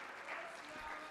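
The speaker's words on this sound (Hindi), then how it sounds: "तो इस समय के लिए आप तालियां बजा सकते हैं।" An audience at a Ramayana festival gathering claps at midday, a soft, diffuse patter of many hands heard at a distance with a murmur of voices mixed in.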